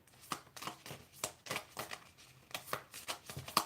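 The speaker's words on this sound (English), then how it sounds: "Final shuffle on that." A tarot deck is shuffled by hand in quick, repeated soft riffs and taps. The steady papery strokes are close and quiet, with no one talking.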